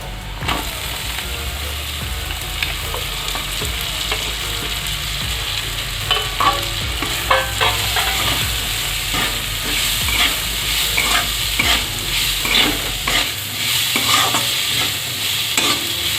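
Raw mango pieces sizzling in a hot pan with chili powder, stirred steadily by a utensil that scrapes and clacks against the metal over a continuous close sizzle, with no speech.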